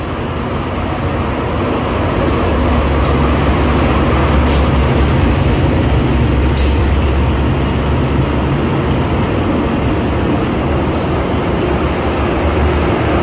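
Steady loud rumble of the Argo Lawu passenger train running between Solo and Jakarta, heard from inside the carriage, with a continuous low drone and occasional brief high clicks, no voices.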